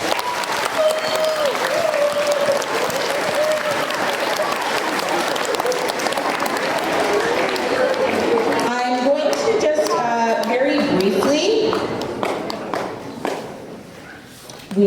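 Students applaud in a school gym at a Terry Fox charity event, a sustained roomful of clapping with crowd noise that thins out near the end as a voice begins to speak.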